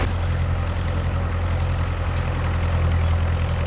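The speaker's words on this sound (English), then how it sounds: "just listen to the sound of that beautiful Caterpillar diesel putting in work" An antique Caterpillar D2 bulldozer's diesel engine works under load, a loud, continuous, deep rumbling chug with a steady rhythm, heard close with no talking.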